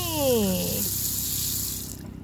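Water runs steadily from a tap in a newly finished bathroom, a continuous hiss heard up close and alone, with a brief rising squeal at the start as the tap opens, then the flow cuts off near the end.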